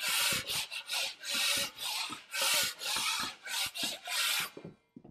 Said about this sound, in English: The first thing I'm going to do is scrape down all my screws just to make sure that any little bubble from the Durabond is gone.